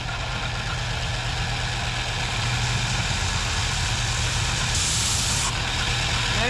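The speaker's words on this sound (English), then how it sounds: "I just take it out to the belt sander" A belt sander shapes the curved top of a wooden galley cabinet aboard a wooden boat, a loud, continuous motor drone with coarse abrasive rubbing that grinds harder for a moment near the end.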